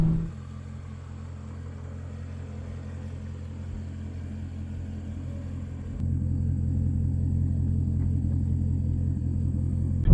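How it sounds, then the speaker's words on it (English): A 757 hp Callaway Corvette Z06 rumbles steadily from inside the car as it rev-matches on downshifts, with a louder, heavier engine surge partway through. "You can hear the rev match that as you come down in gears"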